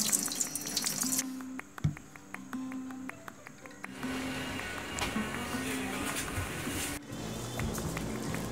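Water splashing and running steadily from a hose or can while plants are watered in a home vegetable garden, a continuous close wash of sound with a few brief knocks and a short break near the end.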